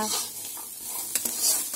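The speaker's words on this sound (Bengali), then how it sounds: "তোমাদেরকে দেখাচ্ছি ছোলা মটর ভাজা" Soaked chickpeas and peas fry in oil tempered with cumin and dried chilli, a close, continuous sizzle with a few sharp scrapes and clinks of a utensil stirring the pan.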